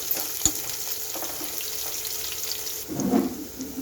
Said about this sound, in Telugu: జీలకర్ర ఆవాలు ఉల్లిగడ్డ పచ్చిమిర్చి రెండు వేసి మంచిగా వేయించుకోవాలి